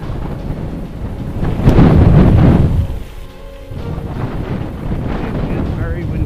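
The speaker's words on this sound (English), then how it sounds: "It is very windy up here" Strong wind buffets the microphone on a mountain top at the head of the Glenlivet mountain bike descent, roaring in loud gusts with a peak in the middle before settling to a steady rush.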